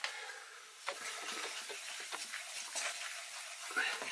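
Flour being stirred into a pan for a Mornay sauce, a soft continuous scraping and light sizzle with brief spoon taps, steady and close.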